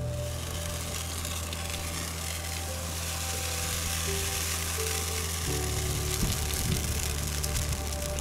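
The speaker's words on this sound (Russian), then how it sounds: "Жарить блины на костре – нелегкая задача." Steady sizzling of pancake batter frying in a hot pan over a campfire outdoors, continuous and moderately loud, with a low background hum.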